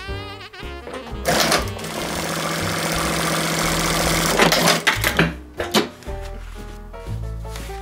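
A sewing machine runs steadily for several seconds with a dense mechanical whir, stitching two fabric pieces right sides together at a quarter inch for a picnic placemat, then stops and restarts in short bursts.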